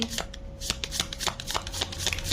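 Tarot cards are shuffled in a quick run of crisp riffling snaps and flutters, close up and continuous.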